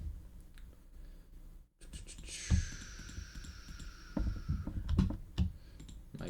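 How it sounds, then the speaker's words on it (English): Quick mouse clicks and light keyboard taps come steadily while drums are mixed in music software, with a brief faint tone sounding partway through. "it's so much clicking"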